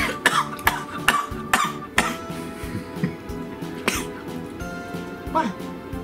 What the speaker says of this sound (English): you have a very big cough for a very little pig